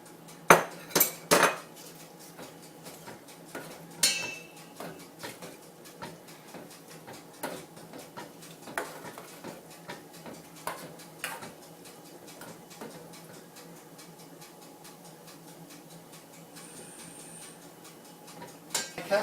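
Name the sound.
cabbage being added to a pan and cooked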